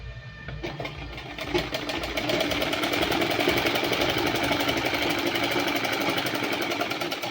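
Sewing machine stitching a sleeve seam on a garment, a steady rapid mechanical whir and clatter running continuously at close range, slightly quieter at the start.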